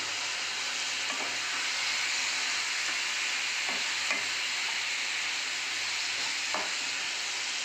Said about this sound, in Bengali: মশলাটা ভাজা ভাজা হয়ে গেছে, এবার চিকেনটা দিয়ে দেবো।